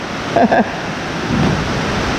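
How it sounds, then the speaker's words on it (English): Heavy rain pouring down outside, a steady broadband hiss with no pauses, heard close, with a brief murmur of voices near the start. "it's pouring down rain"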